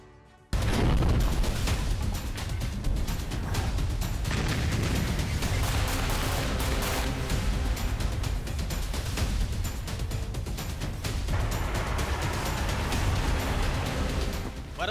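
Artillery fire and explosions in the Russia-Ukraine war, a dense barrage of booms and blasts that keeps going after a sudden start, loud and continuous with faint voices underneath.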